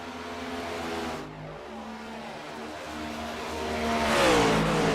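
Stock car engine in a racing video game at Pocono Raceway, a steady droning hum that swells into a louder revving rise near the end as a car passes close, with no talking.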